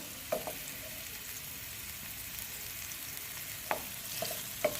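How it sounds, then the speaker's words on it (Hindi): Chicken filling sautéing in ghee or oil for potato kababs: a soft steady sizzle with a few sharp scraping stirs, near and fairly quiet. "इसको सौटे कर लेंगे हम।"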